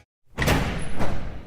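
Heavy steel bunker door swung open after a short silence, giving a loud metallic clunk followed by a scraping, grinding slide and a second clank, heard close up.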